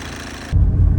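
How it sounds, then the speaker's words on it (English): A 2014 VW Passat TDI diesel engine idles with a low, steady rumble that starts abruptly partway through and then holds, loud and close, with no voices. "I'm just gonna let it keep idling for a little bit."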